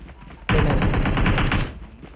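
Gunfire in the mobile shooter game PUBG Mobile: a sudden loud automatic burst of rapid shots lasting just over a second, then quiet.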